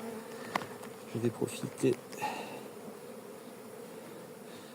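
Honeybees buzz around an open beehive as a colony is moved to a new hive, a faint steady hum beneath a few brief louder bursts and someone speaking French.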